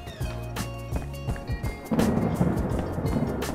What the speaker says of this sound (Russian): мы переждем дождь